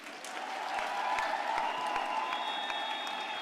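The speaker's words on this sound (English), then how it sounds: "Colleagues, can you give them a round of applause?" Graduation ceremony audience applauding diploma recipients at a UNISA autumn ceremony, a steady wash of clapping from a large hall, moderately distant and continuous throughout.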